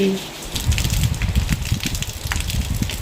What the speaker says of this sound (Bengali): এই তো দেখুন কত বৃষ্টি আর এই যে পানি